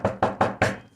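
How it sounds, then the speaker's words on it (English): Four crisp, evenly spaced knocks on a door, close and loud, in a steady quick rhythm with no voices. "knocked on the door of number 1, where Mr. and Mrs. Shiny lived."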